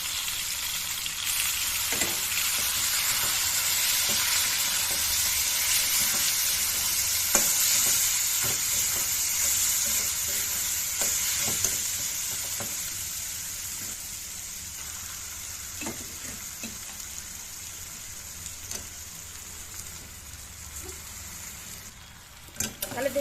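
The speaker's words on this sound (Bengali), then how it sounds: "তাহলে দেখতে পাচ্ছ শাকগুলোকে দিয়ে দিলাম, এবার এগুলোকে ভাজা ভাজা করে নেব।" Red amaranth greens frying in a pan with browned garlic and dried chilli give a steady, close sizzle that slowly eases, with scattered scraping stir clicks throughout and no voices.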